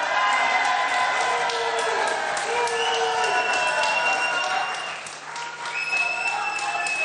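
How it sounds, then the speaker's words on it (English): A crowd at a 2019 UK general election count in Kensington reacting to the declared result, sustained loud applause and cheering mixed with booing, dense and continuous, dipping briefly near the end. "there is a degree of booing there, as you can almost certainly hear"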